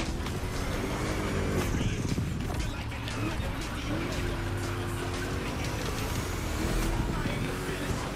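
A car's engine in The Crew Motorfest video game drones and rises in pitch while drifting, with a steady loud roar and wavering revs throughout.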